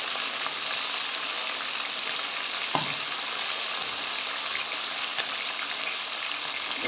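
Finely chopped ginger and garlic sizzle with chicken in a karahi, a steady dense frying hiss that runs unbroken throughout, close and fairly loud, with a couple of faint clinks and no talking.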